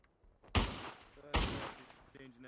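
Two loud gunshot bursts from a Pavlov VR World War One push match ring out about a second apart, each with a booming low end and a decaying tail, with faint game ambience in between.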